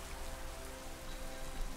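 Steady rain falling in the Pokemon Violet video game, a dense, even patter of drops on surfaces filling the whole stretch at moderate level with no voices.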